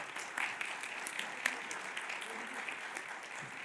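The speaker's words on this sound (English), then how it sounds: "Let's have a round of applause." Audience applause for award recipients at a public policy forum awards presentation, a steady, moderately loud wash of many hands clapping that holds for several seconds.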